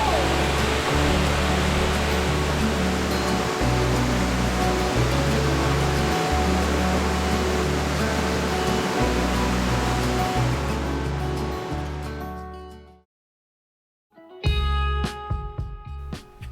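A Maui waterfall at the end of a hike roars as a loud, steady, broadband rush for about thirteen seconds, cuts to silence, then returns briefly.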